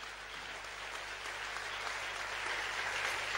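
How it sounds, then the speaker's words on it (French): A church congregation applauding together, a steady, dense wash of clapping that holds at an even level throughout with no voices over it. "Let us applaud the Lord."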